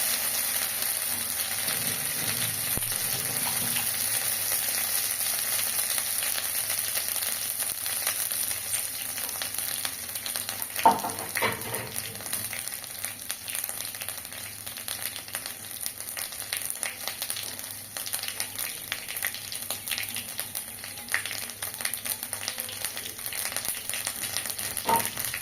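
Grated ginger fries in a hot pan for Bengali mankochu (giant taro) cooking, a steady close sizzle running throughout with a few scraping stirs, one sharper clatter near the middle.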